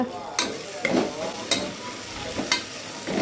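Onions fry in a pan for mushroom biryani, a constant close sizzle broken by regular scraping stirs roughly every half second to second.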